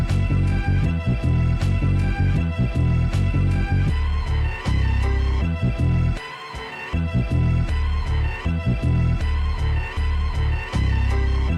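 Hip-hop beat built from a pitched-down, chopped soul sample, with heavy bass underneath; loud and continuous, with a brief drop-out near the middle before the loop resumes.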